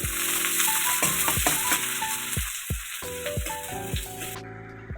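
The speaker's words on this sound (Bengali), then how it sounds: "তেলটা হয়ে গেছে, এবার আমি পেঁয়াজগুলো দিয়ে দিলাম।" Onions frying in hot mustard oil in a wok crackle and hiss steadily throughout, broken by repeated low clattering knocks from stirring.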